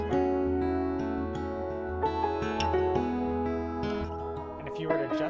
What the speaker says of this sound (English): I kept the Whirly just on the bridge,